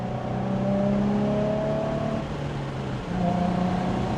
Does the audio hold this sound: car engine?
yes